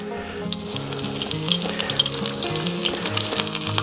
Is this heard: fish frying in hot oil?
yes